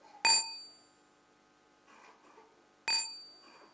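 A meditation bell rings with two soft, clear strikes about two and a half seconds apart, each a bright ding that decays gently, with faint rustling between them in a quiet space.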